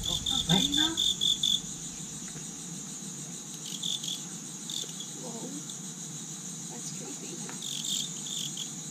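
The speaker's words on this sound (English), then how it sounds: "we're going to have a look at some crickets fighting" Crickets fighting at a morning market in Xi'an, China chirp loudly in short rapid bursts at the start, then keep trilling faintly over a steady background hum.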